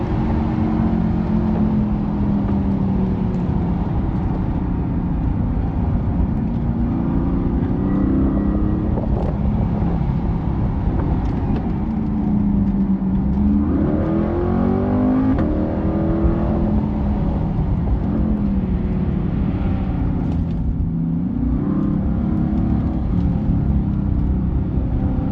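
A Corvette C8 lapping Motorsport Park in Atlanta, its engine droning steadily close-up and rising and falling in pitch as it accelerates out of corners and brakes into the next, continuous throughout with no talking.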